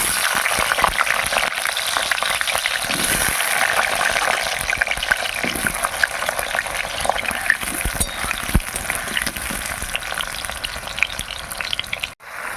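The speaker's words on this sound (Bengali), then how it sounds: "কড়াইয়ে আবার তেল দিয়ে দিয়েছি এবার আলুগুলো ভেজে নেবো" Potatoes fry in hot oil in a wok, giving a busy, crackling sizzle that carries on steadily at close range, with occasional scrapes and spatters.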